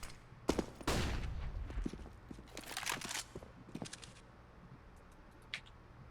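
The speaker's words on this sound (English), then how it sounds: "B-Will's waiting with open arms and an AK headshot for him." AK rifle fire in a Counter-Strike match: several sharp gunshots in short bursts, loud and close at first, then quieter scattered shots over faint game background.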